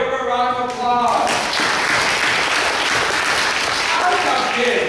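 A school audience breaks into applause after a brief voice at the start, then keeps up loud, dense clapping from many hands for several seconds.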